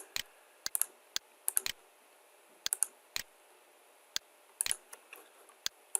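Sharp, separate clicks of a computer mouse and keyboard keys while working in Fusion 360, coming in small irregular bursts against a quiet background, close and fairly soft.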